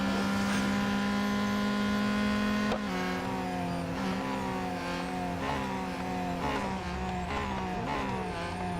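A loud, sustained race car engine drone in Real Racing 3, revving with shifting pitch as gears change, with other cars nearby and a possible brief skid, heard up close without speech.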